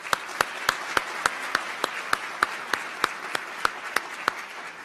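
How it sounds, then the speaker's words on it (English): An audience applauds a Holocaust survivor, Irene Weiss, at a formal address, heard as sparse, evenly spaced claps in a large room, steady and moderately loud throughout. "Would you please stand so we can give you a round of applause?"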